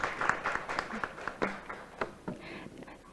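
Applause at a Korean data forum as a professor is welcomed to the stage, with distinct individual claps and a thin, uneven patter from a modest audience that starts to fade toward the end.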